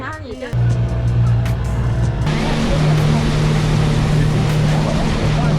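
A speedboat with four or five large 250 hp outboard engines crossing open sea off Nusa Penida: a loud, steady engine roar with rushing water that kicks in abruptly after a brief quieter start and holds without letup.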